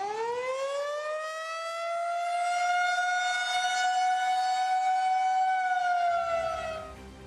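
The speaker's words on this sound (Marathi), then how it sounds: "हा सायरन आहे युद्ध सज्जतेचा, पाकिस्तानला धडा शिकवण्याचा।" Civil defense siren sounding for a mock drill, a single long rising wail that climbs, holds a steady loud tone for several seconds, then falls away, alone and clear.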